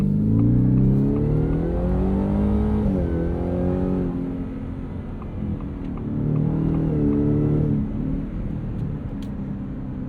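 A 2024 Ford F-150 Raptor R pickup with a 720hp V8 revs and accelerates up through its gears, the engine note rising and dropping in several sweeps at close range, loud and steady throughout with no talking.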